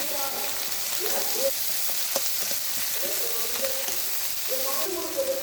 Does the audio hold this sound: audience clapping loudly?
no